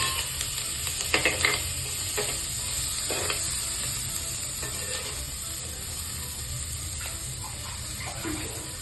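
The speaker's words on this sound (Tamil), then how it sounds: "நறுக்கி வச்சிருக்க வெங்காயத்தை போட்டுக்கலாம்." Chopped onions frying in hot oil with mustard seeds and curry leaves for a South Indian rice and lentil dish, a steady close sizzle broken by several scraping stirs of a spoon through the pan.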